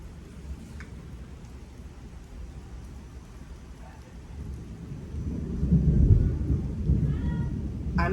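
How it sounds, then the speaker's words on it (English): A strong Florida thunderstorm with steady rain and low rumbling thunder that swells louder toward the end, heard from indoors without other sounds over it. "there's a strong thunderstorm happening."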